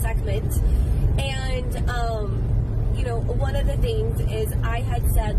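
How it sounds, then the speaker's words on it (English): Steady low rumble of road noise inside a moving car, running continuously beneath a person talking. "Sorry about the road noise."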